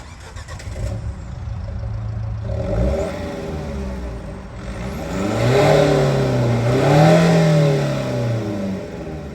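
An Iveco Daily van's diesel engine cranks and catches, then settles into a rough idle before revving up twice in strong, rising surges, heard up close with no talking.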